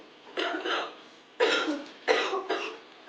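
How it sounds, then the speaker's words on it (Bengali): Repeated harsh coughing from a person with a lingering cold, several separate bursts in close succession, each loud and near against a quiet room. "কাশিটা কমছে না দুটো সিরাপের বোতল খাওয়া হয়ে গেল তবু কমছে না"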